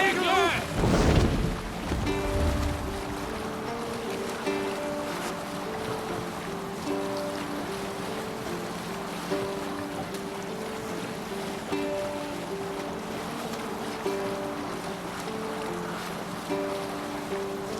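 A Viking longship under sail at sea in Assassin's Creed Valhalla, with a steady wash of ocean waves and wind, a brief louder splash near the start, and faint game tones and voices in the background.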